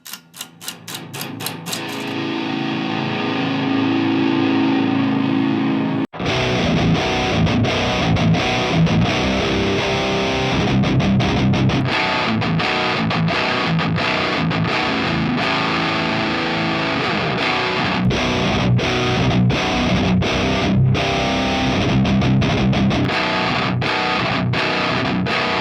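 Electric guitar played through an Ampero II Stomp multi-effects unit into a real speaker cabinet, with a distorted tone that stays loud and continuous, and a single muted chord opening before the dense riffing kicks in.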